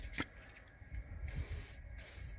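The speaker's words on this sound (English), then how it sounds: "Plenty of WD-40." WD-40 sprayed onto the suspension bolts of a Hyundai Getz, heard as short, quiet bursts of aerosol hiss with a thud at the start and low background rumble.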